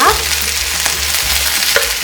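Steady crackling sizzle of chicken for yuringi frying in hot oil over medium heat, continuous and close, with a low hum underneath and no voices.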